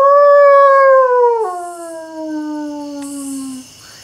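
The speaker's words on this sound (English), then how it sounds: "in the window, you can hear the wolves howling" Wolves howl at night in a Dracula film, a loud, long sustained howl that slides downward in pitch and trails off, with a second voice fading near the end.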